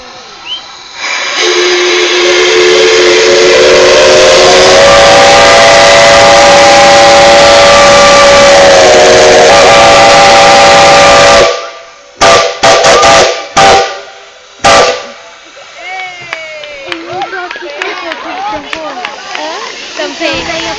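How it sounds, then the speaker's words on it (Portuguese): A Maria Fumaça steam train whistle in Gramado blows loud and sustained with hissing steam for about ten seconds, then cuts off, followed by a few sharp bursts and excited voices of passengers. "Vamos lá, galera, pro apito!"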